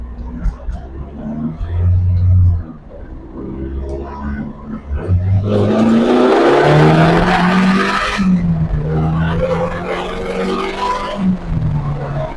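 A turbocharged Toyota MR2 Roadster Spyder with a 1ZZ engine drives off. The engine note rises and falls loudly and close through several revving pulls, with a brief tyre squeal and an underlying rumble.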